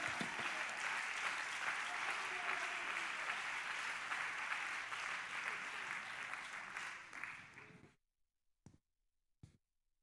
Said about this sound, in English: Somebody clap your hands unto the Lord